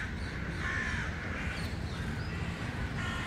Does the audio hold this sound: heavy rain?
no